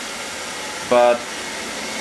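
A Chuwi ILIFE V5S robot vacuum runs with a steady broadband whir throughout, under a brief spoken word.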